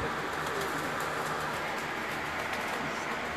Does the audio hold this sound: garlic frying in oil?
no